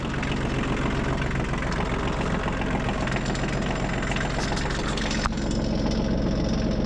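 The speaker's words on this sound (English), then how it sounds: "Let's go get the tractor steered straight." A tractor engine idles and runs steadily and loudly up close for the whole stretch, a constant low rumble with a brief knock near the end, while insulated PEX pipe is being laid.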